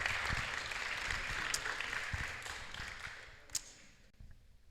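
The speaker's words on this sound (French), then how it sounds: "On peut les applaudir." An audience applauds steadily after a performance by a duo, a broad crackle of claps at moderate level that thins out and fades near the end.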